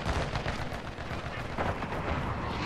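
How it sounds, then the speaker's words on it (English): Cruise missile strike explosions in the video game Modern Warfare 2: a dense, continuous roar of blasts and booming rumble fills the scene, loud and unbroken throughout. "Hostile cruise missile incoming."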